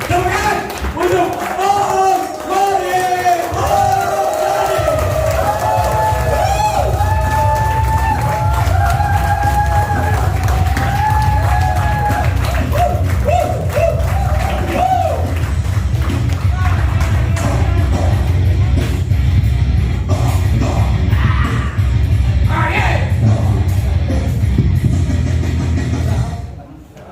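A seminar audience breaks into loud, sustained applause and cheering after a brief amplified voice, and the crowd noise fills the hall for over twenty seconds.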